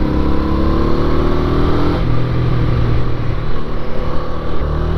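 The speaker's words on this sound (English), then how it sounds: "Listen to that motor roar." A loud, close 1983 Honda Ascot motorcycle engine revs toward 7,000 RPM, its pitch climbing in a strained whine before settling into a rough, steady growl.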